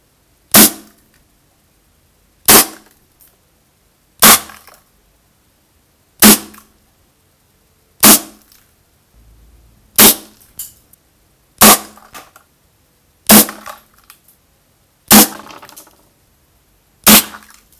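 A Weihrauch HW97K spring air rifle fires pellets, ten sharp cracks spaced about two seconds apart, each loud and close with a quick decaying tail and no talking.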